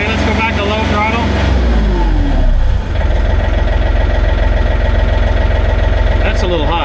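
The Ole Salty 3520 tractor's engine drops from high throttle to a low, steady idle, a loud and close rumbling drone that runs throughout while someone talks over it.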